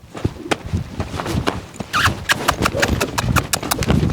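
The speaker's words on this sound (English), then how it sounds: "he's loping around on the wrong lead" Rhythmic hoofbeats of a young horse loping on the wrong lead, a steady three-beat drumming on dirt, close by with some faint background noise.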